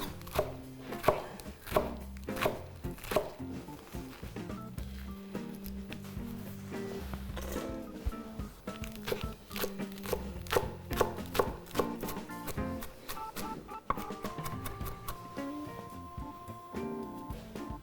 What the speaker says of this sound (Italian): Ora si prendono e si comincia a tritare o a sfilettare, ma comunque tagliatele abbastanza finemente.